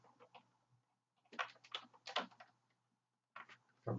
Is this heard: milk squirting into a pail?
no